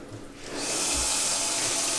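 Hot water gushes from a tap fed by a newly installed 120-volt water heater with an expansion tank and water filter; after a quiet half second, a steady, close rushing flow starts and holds.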